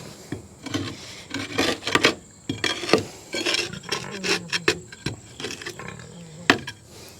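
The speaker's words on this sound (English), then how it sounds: "I'm scraping the paint off as I scrape this" Grease and paint being scraped off the steel mower deck of a 1952 Farmall Cub: repeated rasping strokes in an irregular rhythm, close and fairly loud, with no talking.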